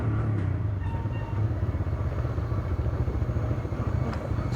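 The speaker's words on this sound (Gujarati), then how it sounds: "કેવો મસ્ત પ્રેમાળ અવાજ છે આપણી બાઇકનો" A motorbike engine runs steadily close up, a continuous low rumbling drone with slight pulsing and no breaks, alone without talk.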